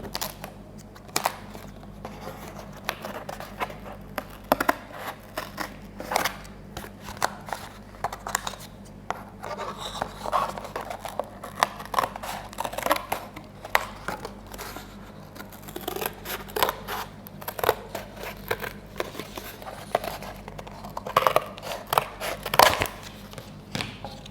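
Scissors snip through strips of cardboard for a cardboard gingerbread house, a steady run of close, crisp cuts with uneven rhythm and short pauses, no talking.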